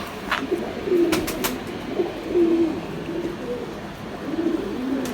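Pigeons of a Ferozpur line breed coo in soft, low repeated phrases at moderate distance, with several bursts spread across the stretch and faint outdoor background noise between them.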